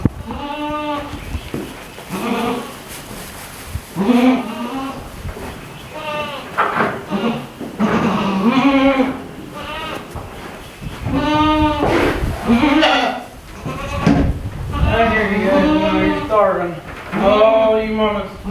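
Dairy goats, mothers with babies, bleat loudly and repeatedly at feeding time, a dense chorus of overlapping nearby calls, with a person talking in between.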